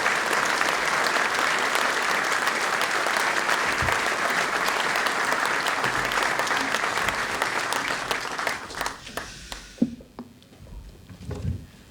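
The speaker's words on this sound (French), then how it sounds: "Je lui demandais de l'applaudir" An audience at a hunting association's general assembly applauds in sustained, dense clapping for about nine seconds, then the applause thins to a few scattered claps and quiet room noise.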